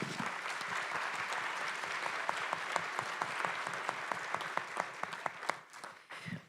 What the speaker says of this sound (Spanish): Y yo creo que un aplauso para Enrique.